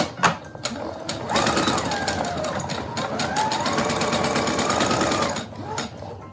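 Sewing machine stitching a fabric filter-pocket mask a quarter inch in from the edge, a close, steady whirring run of needle strokes lasting several seconds between brief pauses.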